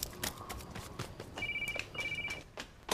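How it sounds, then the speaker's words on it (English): A landline telephone rings indoors in two electronic trill bursts, with footsteps and household movement around it and a short click at the end. "Telephone! I can hear it."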